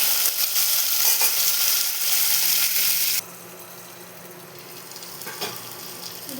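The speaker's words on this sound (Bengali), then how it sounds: "কুমড়োটা ভাজা করে নিতে হবে।" Pumpkin pieces fry in a pan with onion and garlic, a loud close sizzle that drops sharply midway to a quieter steady frying hiss, with faint scraping stirs and clinks.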